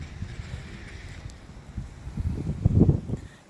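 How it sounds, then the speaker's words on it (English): Gusty wind buffets a microphone outdoors beside a pond at a residential property in New Port Richey, Florida, low rumbling bursts that build louder toward the end. "It's a little windy today, so it might be a little noisy."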